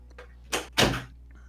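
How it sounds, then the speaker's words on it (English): A house door opens to let a cat out, giving two close, fairly loud bursts of handling and swinging in quick succession with a quiet room before and after. "I'm opening the door for a second just to let my cat out."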